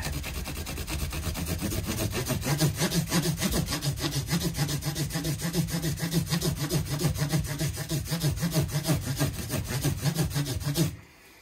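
Micro mesh sanding pad at 1800 grit polishing the body of a Fender Mexican-made Stratocaster, heard as a close, loud, steady back-and-forth rubbing rasp in quick even strokes that stops abruptly at the end.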